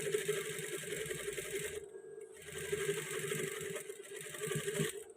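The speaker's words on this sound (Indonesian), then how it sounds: "Dan cara menjahit 2 kali ditumpuk" A sewing machine running a double-stitched seam on trousers, a steady close mechanical whir that drops out briefly midway and then resumes.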